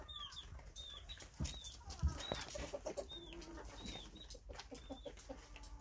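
Hens and roosters in a winter farmyard give faint, distant clucks and soft calls, mixed with higher chirps from other birds, in an irregular, quiet scatter with a couple of sharp knocks.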